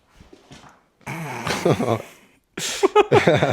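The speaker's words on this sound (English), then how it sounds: "We got dog right here." A dog indoors whimpers softly, then lets out a series of louder, close-up growling and whining vocalizations in two bursts, with a slight gap between them.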